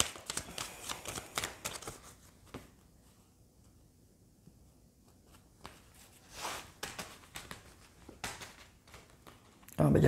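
Tarot cards being spread out across a table, a run of quick papery slides and flicks in bursts with a quiet pause midway, close and moderately soft, ending in a louder thump or rustle.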